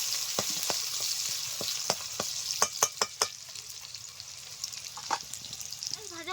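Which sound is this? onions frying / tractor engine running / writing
onions frying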